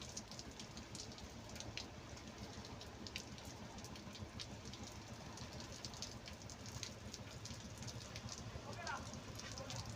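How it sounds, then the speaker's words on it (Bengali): Heavy rain pours steadily on a river boat during net fishing, a dense, even wash of noise with scattered drop ticks and a low rumble underneath, fairly faint throughout. "কিন্তু বৃষ্টির কারণে আপনাদের মাছ দেখাতে পারলাম না অনেক বৃষ্টি নামতেছে"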